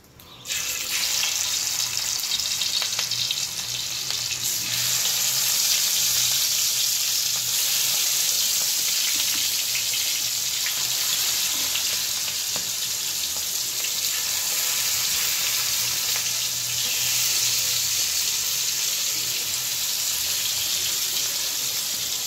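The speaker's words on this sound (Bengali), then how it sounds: "মাছগুলো আমি ভেজে নামিয়ে রাখছি," Small fish frying in oil in a wok, a loud, dense hiss of hot oil that starts abruptly and holds steady throughout with little variation.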